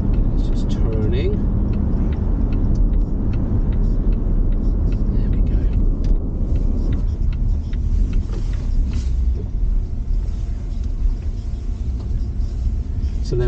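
A Volvo XC60 T8 drives and turns, heard from inside as a steady low road rumble and engine drone that holds constant throughout while a person talks over it.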